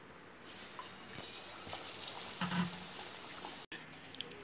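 Batter-dipped green chillies for roadside-style mirchi bajji sizzle in hot oil, a steady close crackling hiss with a brief louder bubbling burst partway through, no voices.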